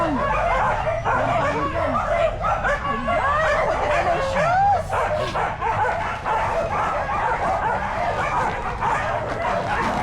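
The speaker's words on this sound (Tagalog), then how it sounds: "Kita nyo po madaming aso." Many dogs at an animal shelter bark, yip and whimper together in a dense, continuous, loud chorus with overlapping voices throughout.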